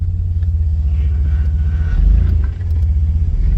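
A truck turning hard in four-wheel drive, its engine rumbling low and heavy with a throbbing pulse and a brief surge of load near the middle, close by and without speech.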